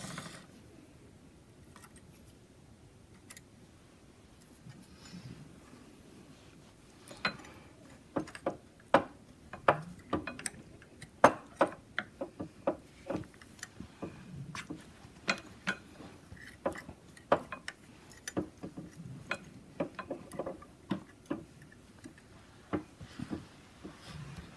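Circular sock knitting machine being cranked, giving a steady run of sharp mechanical clicks and ticks of varying loudness, close up with no talking.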